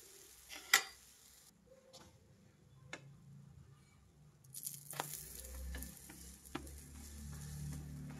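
Pancake batter cooking in a pan over a medium flame, a soft steady sizzle under scattered clicks and taps, with one sharper knock near the start and the frying growing a little fuller toward the end.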